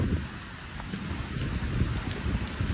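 Steady rain falls outdoors, a dense even hiss of drops pattering on surfaces, moderately loud with no voices.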